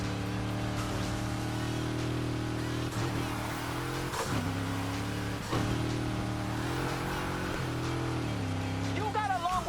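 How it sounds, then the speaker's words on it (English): A muscle car engine in the NFS Heat racing game revs and idles with a steady rumble, its pitch dipping and climbing through several throttle blips, heard alone at moderate level. "I love the sound of this engine."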